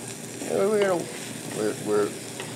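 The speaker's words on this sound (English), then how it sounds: "they're frying up pretty nice" Sizzling and crackling of food frying over medium heat on a hot grill, with a voice speaking briefly over it in a couple of short bursts.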